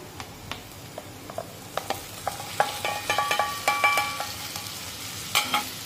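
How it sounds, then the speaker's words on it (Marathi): Tomatoes frying in a pan with onion and ginger-garlic paste for soybean chunk bhurji, with a steady close sizzle and repeated sharp scrapes and clinks of a spatula stirring, no talking. "आता आलं लसूण पेस्ट कांद्यामध्ये परतून झाल्यानंतर यामध्ये 2 मध्यम आकाराचे टोमॅटो टाकूया"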